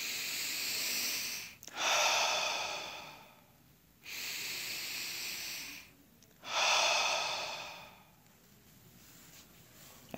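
A person takes three slow, deep breaths, each a loud airy inhale or exhale separated by short pauses, heard up close with no talking.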